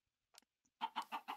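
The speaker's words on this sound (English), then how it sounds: "I've never killed a chicken." Chickens cluck in the video game Minecraft, a few faint clicks followed by four quick, close, loud clucks in a steady rhythm.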